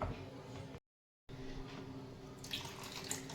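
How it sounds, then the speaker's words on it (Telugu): Water runs and pours into a thick chaat mixture of peas, tomato and onion in a pan, a steady splashing stream broken by a brief silent cut before continuing, brighter toward the end. "ఇప్పుడు వాటర్ వేసుకుందాం."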